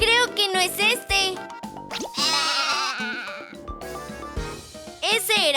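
A sheep bleats in several wavering, drawn-out calls, loud and close, interleaved with bright cartoon-style voices and music in a children's animal-sounds program.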